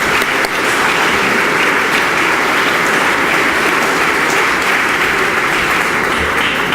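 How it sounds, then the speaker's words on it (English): An audience at a business accelerator's 10-year anniversary celebration claps for a speaker, a loud, dense, sustained round of applause that fills the whole stretch. "Let's give a round of applause for Dan."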